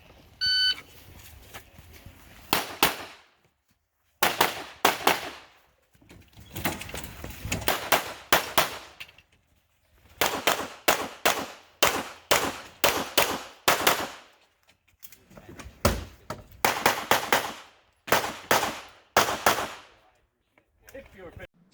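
Pistol gunshots on a USPSA carry optics stage at a Toys 4 Tots memorial match, loud sharp reports fired in rapid strings and pairs with short pauses between, preceded by a timer beep.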